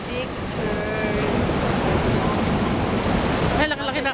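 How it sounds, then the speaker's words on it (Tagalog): Big ocean waves at Imperial Beach, San Diego, roar as steady broadband surf that fills the whole clip. Faint voices sit underneath. "Ay, laki-laki ng alon, no?"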